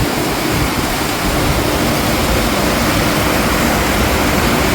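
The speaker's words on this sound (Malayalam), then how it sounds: "ഭയങ്കര മഴ ഭയങ്കര മഴ" Loud, steady rush of heavy downpour fills the whole stretch, a constant hiss without breaks or speech.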